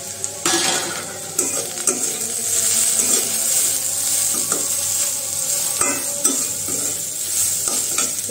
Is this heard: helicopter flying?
no